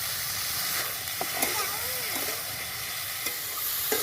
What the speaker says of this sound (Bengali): কাঁচা লঙ্কা শুকনো লঙ্কা একসঙ্গে বাটা জিরা আর আদা বাটা ভালো করে কষিয়ে নেব